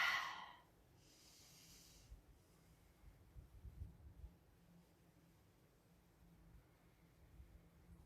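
Slow, quiet breathing during a yoga forward fold, soft breathy exhales following a brief hiss, faint and close to the microphone with no talking.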